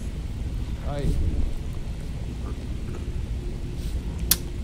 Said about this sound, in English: It's still thundering outside.